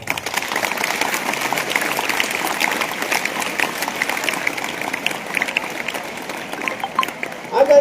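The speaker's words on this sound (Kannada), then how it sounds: "ನಿಮ್ಮ ಪ್ರಾಮಾಣಿಕಗೆ ಒಂದು ಜೋರು ಚಪ್ಪಾಳೆ ಬರಲಿ" Applause from a school audience at Sri Vidyaniketan Public School in Gangavathi, Koppal district, a dense, fairly steady clatter of many hands at moderate distance, with a voice speaking over it at times.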